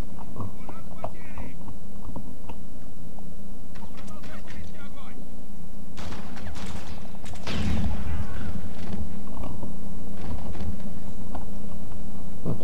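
Barrels blow up in the shooter game James Bond 007: Blood Stone. One loud, booming blast rises past the midpoint over a steady bed of game noise and scattered gunfire-like hits, with voices talking at times.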